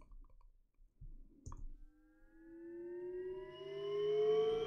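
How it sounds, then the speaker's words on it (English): An 8-bar riser effect from a song mix sweeps steadily upward in pitch, growing louder as it goes. A few soft clicks and thumps come just before it. "I made an 8-bar riser and just recorded it. And this is what it sounds like."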